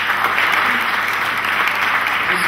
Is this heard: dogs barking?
no